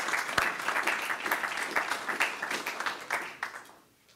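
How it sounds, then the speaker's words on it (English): A room of attendees at a school board of education meeting breaks into applause, a dense patter of many hands at moderate level that thins out and fades to near silence at the end. "give them one more round of applause"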